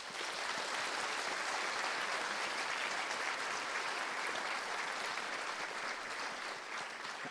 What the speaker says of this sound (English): give Dan French a round of applause